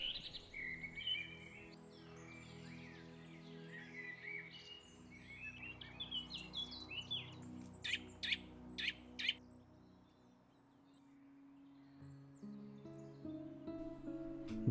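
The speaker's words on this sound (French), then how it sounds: "Les premiers passereaux chanteurs s'égosillent à travers les sous-bois pour marquer leur territoire et rechercher des partenaires." Small songbirds, chaffinches and robins, singing in a forest in early spring: thin, fluttering phrases and sharp repeated chirps at a distance, over a low, faint background hum.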